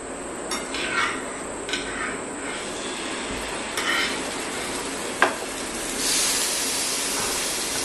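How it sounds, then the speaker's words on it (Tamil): Chicken leg pieces frying in oil on a night-time grill-chicken cook, giving a steady broadband sizzle throughout with a few soft stirring clatters and a brighter hissing surge near the end. "ஆயில் விட்டுட்டு இப்ப சிக்கனை நம்ம வறுத்து எடுத்துப்போம்."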